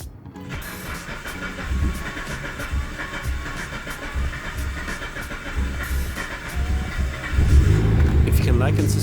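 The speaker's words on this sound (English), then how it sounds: "Once I modified the end cap, the car started right up on the second try." Mitsubishi Lancer engine after a fuel pump replacement, running with a steady mechanical hum and hiss that swells into a louder, deeper rumble toward the end.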